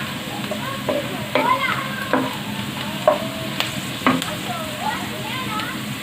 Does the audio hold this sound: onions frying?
yes